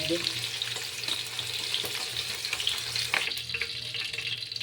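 Chicken pieces fry and brown in a pan with a continuous crackling sizzle, close and fairly quiet, with no talk over it.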